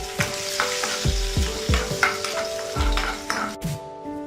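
Spices and four crushed garlic cloves frying in oil in a pan for a raw mango chutney: steady sizzling with a rhythmic series of metal spatula knocks and scrapes against the pan, close up, no talking.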